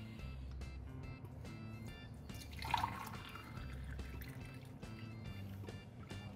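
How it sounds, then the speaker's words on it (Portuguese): Juice is poured into a small stemmed glass, making soft liquid trickles and drips with a fuller splash midway, heard close and quiet against faint background music. "Vou colocar o suco aqui."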